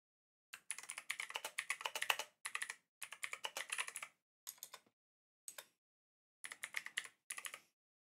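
Typing a scenario description on a computer keyboard while setting up a train simulator editor: rapid close key clatter in several short bursts separated by brief silences, quiet and alone.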